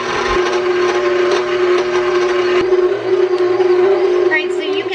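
A stand mixer kneading bread dough made with about five cups of flour, its motor holding a steady whining hum with rhythmic churning, running loud and close throughout.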